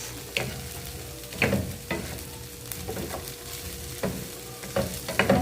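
Butter tofu mixture being stirred in a pan, a thick stiff mix giving a series of irregular scraping and clunking spoon strokes over a low sizzle, fairly close and moderate in level, no voices.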